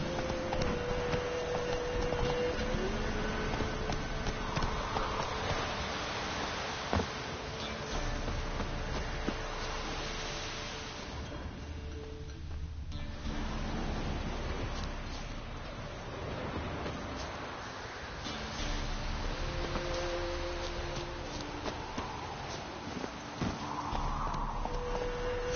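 A horse galloping in The Witcher 3, with steady clip-clopping hooves and pattering footfalls running throughout under game sounds and tonal music.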